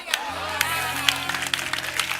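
A church congregation applauds during a sermon, with scattered, fairly quiet claps over a soft sustained keyboard tone, and a voice speaks briefly.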